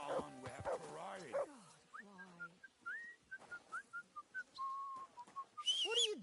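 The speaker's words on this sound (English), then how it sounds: "Whistling just for fun." Whistling in the game Kingdom Come Deliverance 2: a rising whistled tune of a dozen short notes, then a held note, with game voices and animal-like sounds before and after.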